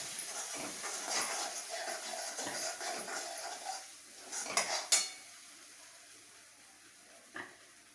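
Bhogi mixed vegetables tossed with spices and whole sesame seeds sauté in a pan, a steady soft sizzle under repeated scraping and clinking of a spoon against the metal, with a couple of sharper knocks near the end.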